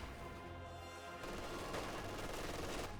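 Heavy machine gun in Company of Heroes 2, a sustained burst of rapid fire starting about a third of the way in and continuing to the end, fairly quiet in the mix with no talk.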